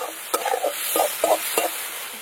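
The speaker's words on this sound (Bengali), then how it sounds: "পেঁয়াজটাকে ভালো করে একদম কিন্তু ভেজে নিতে হবে।" Chopped onion with salt frying in a pan for potato chop filling, stirred with a spoon: a continuous close sizzle broken by several scraping stirs and knocks against the pan.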